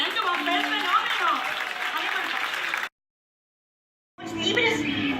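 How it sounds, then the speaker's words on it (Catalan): An audience at a book fair event in Valencia bursts into steady applause and cheering, dense clapping that breaks off into silence, then resumes loud after a pause. "Un aplaudimiento con el fenómeno."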